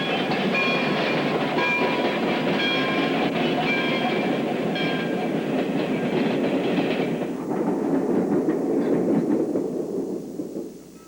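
A rumbling steam locomotive, number 250, runs close by through pine forest south of Hattiesburg with steady rhythmic clatter and a few horn-like tones, then the noise fades slightly toward the end.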